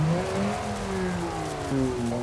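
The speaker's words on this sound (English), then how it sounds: "Why the engine keeps revving?" A V10 engine swapped into an SUV in the BeamNG driving game revs steadily and loudly, its droning, harmonic engine note holding high and wavering slightly without dropping.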